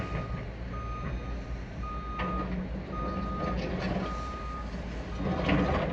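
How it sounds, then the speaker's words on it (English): Dump trucks reversing at a round-the-clock CSX rail rebuild site, with repeated steady reversing beeps sounding over a constant heavy diesel truck rumble, moderately near. "Dump trucks are still coming in."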